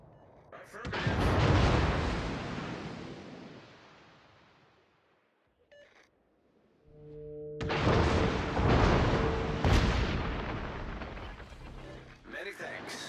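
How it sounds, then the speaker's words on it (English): Naval gunfire in the World of Warships game, a heavy cruiser battle with salvos on a Pensacola-class target: two long, loud booming barrages with rumbling decay, separated by a near-quiet gap, a brief tone sounding before the second volley. "Concentrate fire on the target"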